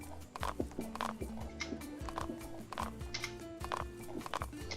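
Horse hooves clip-clopping in a horse video game's ice zone, a steady walking rhythm of distinct hoof beats over background game music, with no one talking.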